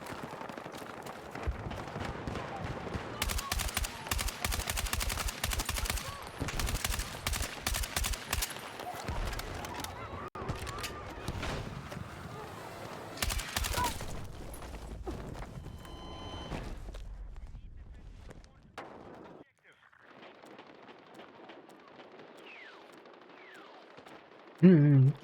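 Assault rifle gunfire in a video game: rapid bursts of automatic shots pile up over busy in-game noise and footsteps, then give way to quieter ambience near the end.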